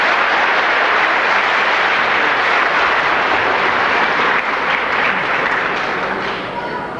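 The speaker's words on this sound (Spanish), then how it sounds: "Vamos a recibir con un fuerte y caluroso aplauso al señor Neftalí Díaz" Loud, sustained applause from an audience welcoming a speaker at a religious gathering, dense clapping that holds steady for several seconds, then eases slightly toward the end.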